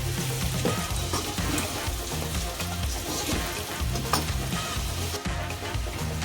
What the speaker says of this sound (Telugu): ఇప్పుడు మనం ఇందాక తీసి పెట్టుకున్న చికెన్ని వేసుకుందాం. దీన్ని బాగా కలుపుకోవాలండి కలిసేలాగా.